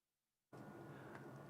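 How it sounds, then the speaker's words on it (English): After a half-second of near silence, a steady broadband fan whoosh from an air conditioning unit switches on and continues evenly, blowing close to a microphone. "That is the noise of my air conditioning unit with the fan blowing,"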